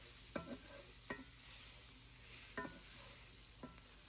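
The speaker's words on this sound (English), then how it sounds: "Every once in a while, give the green beans a little stir" Green beans sizzling in browning butter in a cast iron pan, a soft steady hiss with four quick scraping stirs spaced through it.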